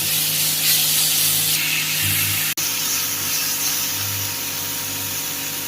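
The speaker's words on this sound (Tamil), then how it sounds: "இதையும் நல்லா போட்டு வதக்கிக்கலாம்." Chopped onion, medium tomato and ginger-garlic paste sizzle in a hot pan for an egg prawn fry, a loud, steady hiss that continues without a break and without talking.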